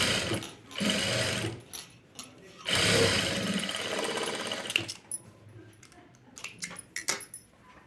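A sewing machine runs in bursts while top stitching a katori blouse front, its motor whirring loudly in long stretches, pausing, then giving shorter clattering runs with handling noise.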